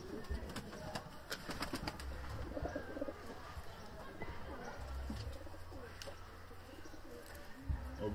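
Soft cooing of Turkish tumbler pigeons repeats through a noisy outdoor scene, with faint chirps and low background rumble throughout.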